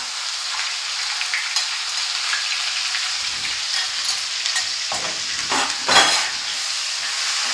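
Sliced turmeric and garlic frying in hot oil until crisp, a steady dense sizzle with a few stirring scrapes and clinks toward the end, close and continuous.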